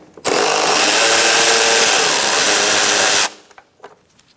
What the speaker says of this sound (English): we're going to take out this bolt